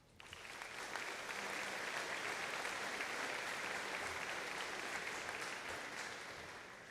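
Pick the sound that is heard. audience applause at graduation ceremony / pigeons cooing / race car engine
audience applause at graduation ceremony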